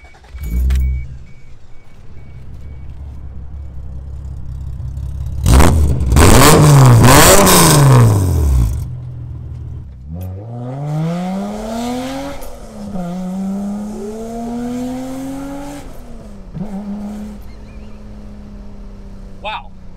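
A 1987 Toyota Supra with a non-turbo engine revs loudly nearby, a burst of roaring throttle blips followed by rising and falling revs, with brief voices in between.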